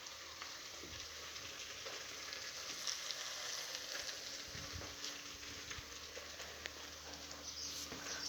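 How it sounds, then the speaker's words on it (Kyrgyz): Carrots frying in a pan with meat, a steady, fairly quiet sizzle and crackle that continues evenly throughout, with occasional soft stirring sounds. "Сабизди дагы жакшылап кууруп алыш керек болот"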